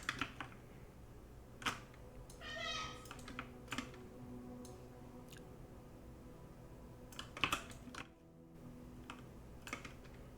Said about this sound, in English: Sorry for the clicking